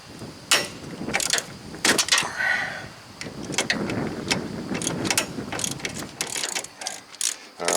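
Ratcheting and wrench clicks from breaking loose a seized bolt on the worn, binding intermediate steering shaft of a 2007 Toyota Tacoma 4x4, close up, with irregular bursts of clicking and metal clanks and no talk.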